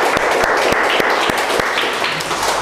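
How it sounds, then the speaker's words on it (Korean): A congregation at a Sunday worship service at Singapore Full Gospel Church gives loud, continuous applause, with evenly spaced low beats running under the clapping. "하나님께 큰 영광의 박수를 한 번 더 올려드렸으면 좋겠습니다"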